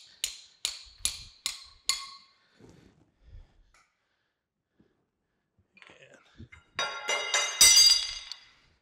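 A small metal screw piece drops free while the table is being removed from a Lucas Model 31 horizontal boring mill: a quick run of five sharp metallic clinks, then quiet, then a louder rattling clatter near the end.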